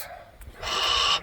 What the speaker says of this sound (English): She is a Harris hawk.